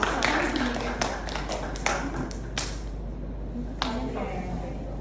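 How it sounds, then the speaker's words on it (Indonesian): A few students clap for a classmate during a classroom lesson, giving a brief burst of scattered, close hand claps that thins out into isolated taps over a low background hum. "Tepuk tangan buat Mbak Arifin dong."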